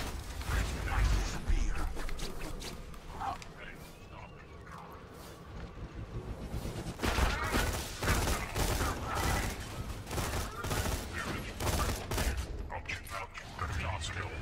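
Rapid assault rifle fire from Roland's Scorpio in the video game Borderlands 2, with bursts of shots crackling over a busy, rumbling game soundscape that grows louder and denser in the second half.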